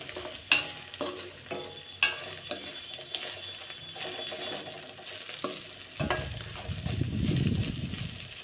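Fenugreek leaves fry in a pan with a soft continuous sizzle and sharp spatula taps and scrapes at intervals, followed near the end by a lower rumbling stir; close, no speech.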